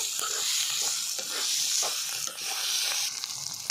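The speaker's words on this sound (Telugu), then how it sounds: "ఇప్పుడైతే ఒకసారి మంచిగా కలుపుతున్నానండి" Ivy gourd chutney mixture stirred in a hot pan, giving a steady close sizzle with soft repeated scraping strokes throughout, no voices.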